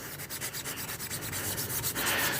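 Sanding on the body of a Trans Am during prep for primer, with the welded ends included: steady, close scraping strokes that rise and fall in a quick repeating rhythm, abrasive against the panel, with no voices.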